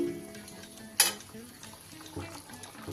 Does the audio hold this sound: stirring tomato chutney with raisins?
yes